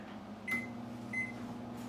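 Microwave oven humming steadily at half power while melting sugar, a low constant drone with two faint short tones near the middle.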